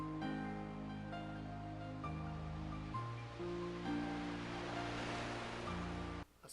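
Soft ocean surf washes steadily beneath a somber piano melody on the Kingdom Hearts title screen, the waves a constant hiss under sustained piano notes, no voices.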